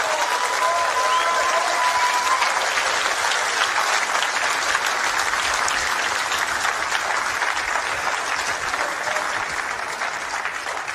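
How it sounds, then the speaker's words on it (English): Loud, sustained applause from a large crowd at the 2023 snooker final between Kyren Wilson and Shaun Murphy, dense and continuous clapping that holds steady throughout and tapers only slightly at the close. "Another round of applause for both players,"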